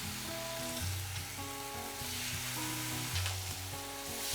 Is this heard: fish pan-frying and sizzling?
yes